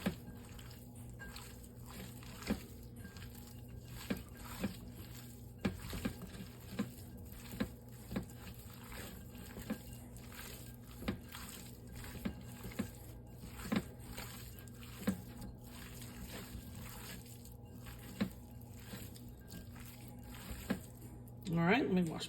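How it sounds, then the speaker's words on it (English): Hands massaging salt and pepper into raw meat, soft wet squishing and patting in an irregular rhythm, close and quiet against a low background hum. "I'm just going to dig in and kind of massage all this in"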